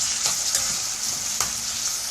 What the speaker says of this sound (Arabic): ادي البصله اللي عندنا قطعناها بالشكل ده كده، وضفناها على السمن او الزيت زي ما تحبي